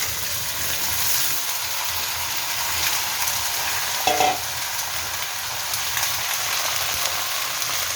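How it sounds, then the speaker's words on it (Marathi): Mixed vegetables sauté in a hot, reddened spice tempering for a Bhogi-day mixed bhaji, giving a steady, close sizzle with a brief stirring clatter partway through. "तर हे 1 मिनिटभर चांगलं छान परतून घ्यायचं."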